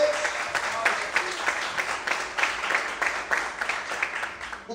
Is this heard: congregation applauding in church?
yes